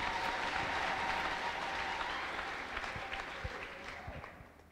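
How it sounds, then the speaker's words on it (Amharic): A church congregation at a prophet's service breaks into sustained clapping mixed with high ululating cries, a thick crowd roar that slowly fades over a few seconds. "ለጌታ ለኢየሱስ ክርስቶስ ከፍ ያለ እልልታ ጭብጨባ አምጡ።"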